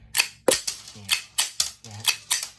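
The slide of a Tokarev TT-33 blank pistol is racked slowly over and over, giving about eight sharp metallic clacks in an even rhythm, each close and crisp with a short metallic ring.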